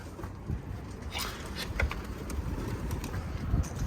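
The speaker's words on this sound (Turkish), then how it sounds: "Kuş yakaladık." Domestic pigeons in a loft give soft, low cooing and rustling close by, with faint scattered bird calls over a dull background hum.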